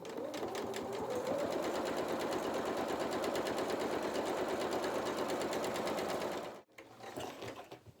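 Sewing machine stitching fabric for a small doll's sailor dress skirt, a fast steady mechanical whirr running close for several seconds, then stopping abruptly with a brief quieter rattle after.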